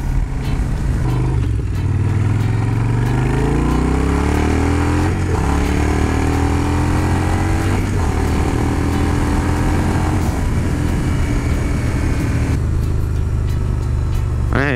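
A Yamaha Bulldog motorcycle engine revs and accelerates up close and loud, its pitch climbing steadily through the gears as the bike pulls away, the drone continuous with no talk over it.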